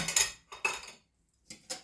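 A spoon scrapes around a bowl in four quick strokes, close and crisp, with brief pauses between them.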